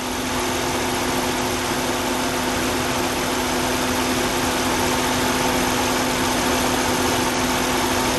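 Car engine idling steadily during a battery charging test, a constant even hum with no revving, alone with no voices throughout.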